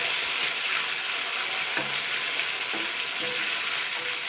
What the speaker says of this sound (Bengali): বন্ধুরা আমি কিন্তু এবারে উল্টে পাল্টে কিন্তু সুন্দর করে ভেজে নেব